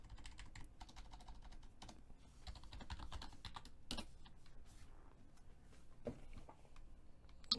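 A computer keyboard is typed on in rapid, uneven bursts of clicky keystrokes, close and clear, with a few louder key hits and no talking.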